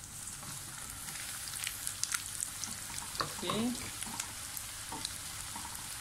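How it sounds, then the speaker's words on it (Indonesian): Tempeh frying in a pan, a steady soft sizzle with light stirring and scraping throughout, heard up close, with a brief spoken word from a person in the kitchen. "Okay, kita start goreng tempe kita."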